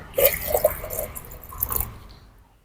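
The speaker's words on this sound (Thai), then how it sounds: "ทำการผสมกับน้ำเย็นนะครับ" Hot water mixed with cold water is poured into a glass to soak seeds: a short, gentle trickle and splash, fairly close and soft, fading out over a couple of seconds.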